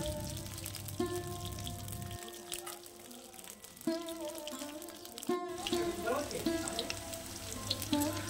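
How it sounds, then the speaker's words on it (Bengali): Thin slices of eggplant fry in oil in a wok, giving a soft, bubbling crackle with spatula scrapes and stirring clinks, faint background hum, no talking. "বেগুনগুলো একটু বেশ লাল লাল করেই ভেজে নেব।"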